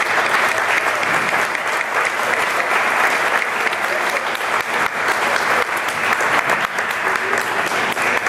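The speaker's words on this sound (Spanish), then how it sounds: "vamos a pedir un caluroso y afectuoso aplauso" Loud, sustained applause from an audience at a conference talk, steady clapping filling the room without a break.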